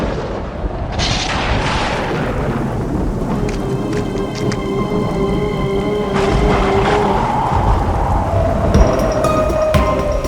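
Steady heavy rain pours throughout, with low rolling thunder rumbling underneath; no voices.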